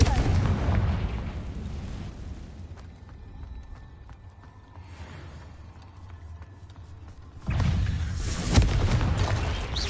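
Fiery explosion spells burst in Hogwarts Legacy. Loud booming blasts open the passage, quieter rumbling and scattered impacts follow, and another heavy burst of explosions comes near the end.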